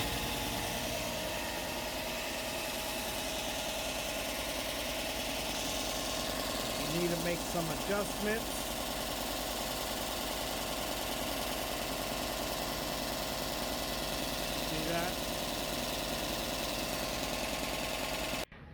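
A WEN combination belt and 6-inch disc sander runs with a steady, fairly quiet motor hum and whirring sanding belt, continuous throughout, with someone speaking briefly over it.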